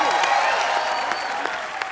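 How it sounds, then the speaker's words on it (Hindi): Studio audience at a Kapil Sharma Show taping bursts into loud, dense applause for guests, a steady wash of clapping with a few sharper claps standing out, filling the whole moment. "एक बार नेहा सोहा के लिए जोरदार तालियां।"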